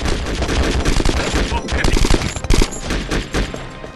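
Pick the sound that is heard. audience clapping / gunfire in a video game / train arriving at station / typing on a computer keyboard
gunfire in a video game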